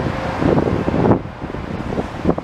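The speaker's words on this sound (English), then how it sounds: "The wind is, like, worse than I thought." Strong gusty wind buffets the microphone outdoors while walking around Longueuil, Quebec, a loud continuous roar with surging gusts and no talking.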